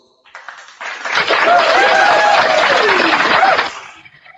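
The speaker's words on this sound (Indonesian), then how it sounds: "Wah, tepuk tangan untuk Om Paulus." Audience applause for Om Paulus at an evening discussion gathering, rising quickly into a sustained burst of clapping, with some laughter and vocal sounds mixed in, then fading away after about three seconds.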